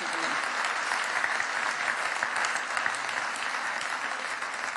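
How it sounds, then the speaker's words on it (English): Audience applause fills a convention hall at the 2011 Innovation Convention in Brussels, a dense, steady roar of many hands clapping that holds evenly for several seconds with no voices over it. "let's give them another round of applause and thank them."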